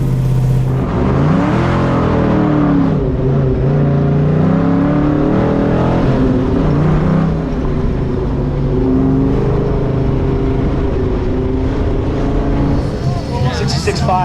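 A race car on an autocross run at the SCCA Solo Nationals, its engine revving up and down through gear changes, loud and continuous from inside the car, with talk mixed in.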